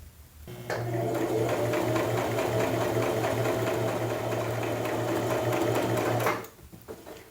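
A sewing machine stitches chiffon steadily for about six seconds, a close, even mechanical whir of rapid stitching that starts and stops abruptly.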